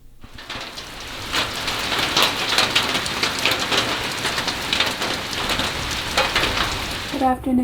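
Steady rain falls outside a secluded cabin in Margaree, Cape Breton, a dense even patter on surfaces with scattered louder drips, close and continuous with no talk.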